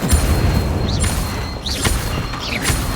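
A fire spell goes off in Hogwarts Legacy with a loud burst and crackling whoosh, and bright zinging magic effects flare over dense, continuous game noise throughout.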